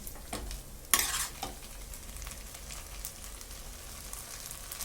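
Vegetable chowmein is stir-fried in a pan, giving a steady low sizzle with scraping stirs throughout and one louder burst of frying noise near the start.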